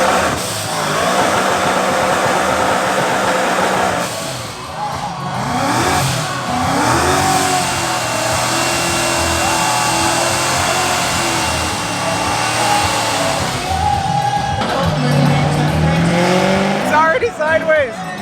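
A Ford Mustang does a burnout on private property, its engine revving hard and rising and falling in pitch while tires squeal, loud and sustained, with people talking and shouting over it.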